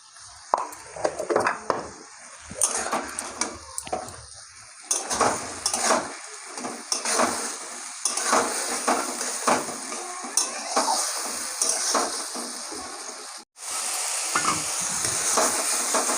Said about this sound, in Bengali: মশলাটা কষিয়ে নিয়েছি ভালো করে